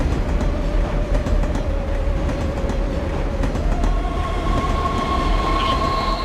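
A train rumbles loud and steady through a Rock of the Dead cutscene, with a thick low roar, faint wheel squeal and a few clicks, and no voices.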